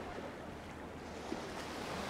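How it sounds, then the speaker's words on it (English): Wind buffets a microphone on a San Juan beach while choppy surf rolls in, a steady broad roar of waves and gusts with no talking. "it is super windy out here at the beach, and there's definitely some waves and some choppiness"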